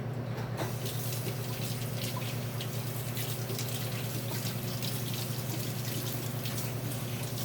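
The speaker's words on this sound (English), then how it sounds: "Now I gotta pull it out and rinse the syrup off of it, and the turmeric and everything." A tap runs steadily while syrup, turmeric and other bits are rinsed off a spoon in a kitchen during Cowboy Candy making, giving a constant close splashing hiss throughout with no break.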